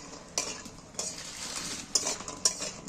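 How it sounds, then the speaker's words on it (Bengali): Sun-dried lentil dumplings (bori) fry in a pan while a utensil stirs them, giving a steady close hiss of frying broken by a few sharp scraping clinks against the pan, with no voices. "দেখো লাল লাল করে ভেজে নিচ্ছি আমি"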